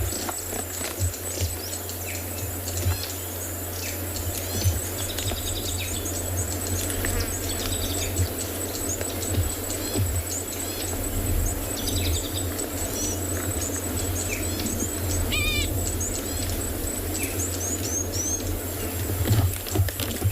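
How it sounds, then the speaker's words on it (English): Many birds chirp and call at sunset on a safari at Tswalu in the Kalahari, a busy chorus of small twittering calls over a low steady hum, with no talking. "see if you can hear all these birds"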